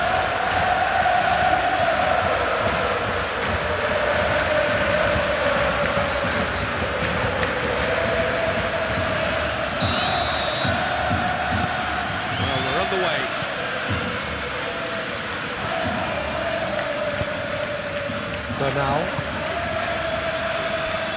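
Dense stadium crowd at a Champions League quarterfinal between FC Barcelona and Club Brugge, a steady roar of voices and chanting filling the background under continuous commentary.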